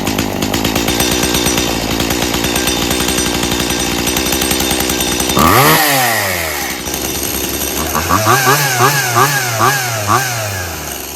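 A Stihl MS170 chainsaw that bogs and smokes heavily runs close by. Its engine revs and wavers unevenly, drops sharply partway through, then surges again in uneven bursts.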